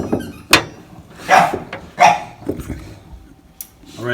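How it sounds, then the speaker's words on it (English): Excited dogs in a house, near a pellet stove being restarted, let out a few short, sharp barks or yips spaced about a second apart, sounding close and moderately loud over a quiet room. "The dogs are obviously excited about it too."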